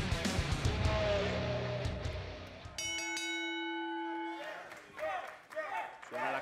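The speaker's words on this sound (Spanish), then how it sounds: "Suena la campana." A bell rings out to start a wrestling match at an arena event in Tokyo, a clear metallic clang with a long sustained ring, following an excited crowd roar and fading into live commentary.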